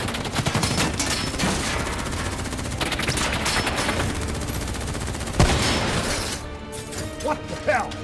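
Bursts of automatic gunfire during a Call of Duty Black Ops III cutscene, dense and loud, with a sharp crash near the middle and scattered shots trailing off toward the end.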